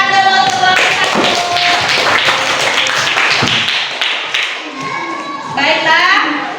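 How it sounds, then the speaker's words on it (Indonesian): Schoolchildren in a classroom clap for a discussion group, a dense burst of many small hands with high children's voices and chatter mixed in, loud and close, fading slightly before a final flurry. "Tepuk tangan dulu untuk kelompok 1."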